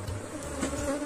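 Honey bees buzz at a hive being prepared for the next season, a dense, close, steady hum over about a second with no other sound.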